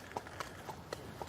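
A horse walks on a hard surface, with about five evenly spaced hoof clops, faint and close against a soft background hum.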